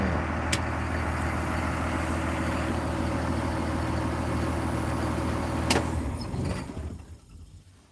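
A van engine idles with a steady rumble and then is switched off, the sound dying away over the last couple of seconds into near quiet.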